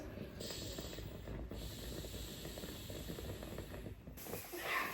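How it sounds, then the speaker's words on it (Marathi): A home steam inhaler starting to give off steam, making a steady, faint hiss that runs throughout with small shifts in level and a brief louder burst near the end, with no voices. "आता हळूहळू वाफ यायला स्टार्ट झाली"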